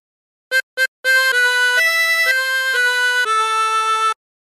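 A Bella Ciao phrase played on a chromatic harmonica: two short staccato notes, then a run of sustained, reedy notes stepping through the melody, close and clear, alone with no talk.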